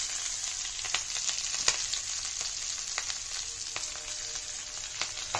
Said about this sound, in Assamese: এতিয়া দি দিলো পিয়াজ